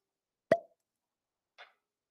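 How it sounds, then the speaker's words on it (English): A cork pops sharply from a bottle of Maker's Mark Cask Strength bourbon, one crisp loud plop followed about a second later by a softer squeak, with silence around it. "Love the cork pop."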